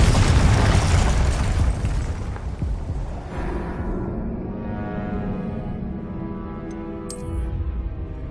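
A Confringo spell explosion in Hogwarts Legacy bursts with a loud, close, heavy blast that rumbles and fades into a long ringing tail over several seconds, followed by a faint high whoosh late on.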